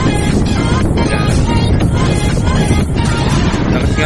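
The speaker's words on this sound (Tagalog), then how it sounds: "Lakas nga lang ng hangin." Strong wind roaring and buffeting the microphone, loud and constant, with a low rumbling boom throughout.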